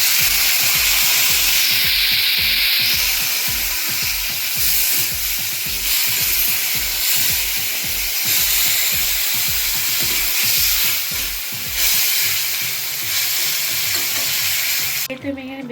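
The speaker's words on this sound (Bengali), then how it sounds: "পেঁপে আলু সুন্দর ভাজা ভাজা হয়ে গেছে" Papaya and potato pieces frying in a pan with a little Kashmiri chili, a steady close sizzle and hiss under rhythmic scraping strokes of stirring that repeat for most of the stretch before fading out.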